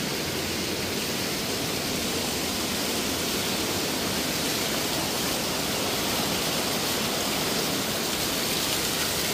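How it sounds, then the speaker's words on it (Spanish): A waterfall in the Black Forest near a guardhouse gives a steady, dense rushing hiss, close and unbroken throughout with no voices. "Y ahí tenemos la cascada."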